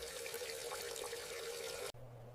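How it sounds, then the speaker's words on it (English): Tap water gushing steadily into a bathroom sink during face washing, loud and close, then cutting off abruptly near the end, leaving a low hum; no talk. "I wash my face."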